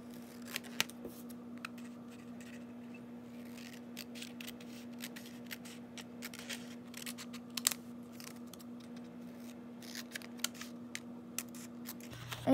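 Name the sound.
cutting paper bookmarks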